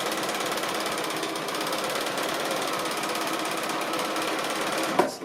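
A sewing machine stitching quilt pieces runs in a fast, steady mechanical chatter, close and continuous, then stops with a small clunk near the end.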